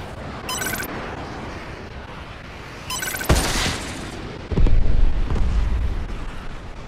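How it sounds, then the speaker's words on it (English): Missile strikes landing in Call of Duty: Advanced Warfare, with two heavy explosions a second apart, each a sharp boom rolling into a long, loud rumble, after brief electronic beeps earlier. "Friendly missile strikes incoming."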